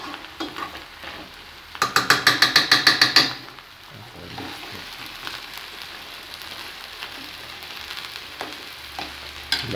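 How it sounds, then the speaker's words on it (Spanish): Beef and pork frying in a discada, a sizzle running throughout with a short burst of rapid rhythmic stirring or scraping clatter near the start, then a steady low frying hiss. "La carne debe dar muy freída, que quede freída, quede bien freída."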